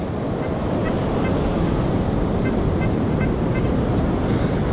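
Loud, continuous surf roar of ocean waves breaking on a beach, with broadband wind buffeting the microphone, waves washing in without a break and no voices.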